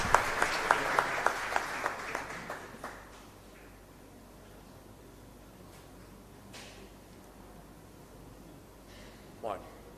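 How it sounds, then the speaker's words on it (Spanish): A church congregation at a parish Mass claps in an even, rhythmic burst that quickly fades out within a few seconds, leaving a quiet, echoing room with only faint shuffles and a small knock near the end. "Y un fuerte aplauso entonces para todos nosotros."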